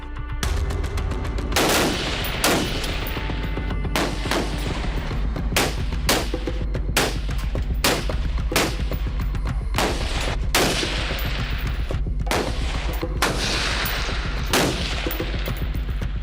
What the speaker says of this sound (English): We were able to shoot the U.S. Arms AR-15 platform.